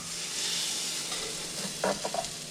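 Colombian corn and cheese arepas cook in a pan with a steady, moderate sizzle. Near the end, a couple of brief clatters from a utensil cut in.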